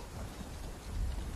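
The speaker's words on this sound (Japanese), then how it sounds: "あ。 雨。" Steady rain pours in Final Fantasy VII Rebirth, a dense hiss with a low thunder rumble that swells toward the end, with no voices over it.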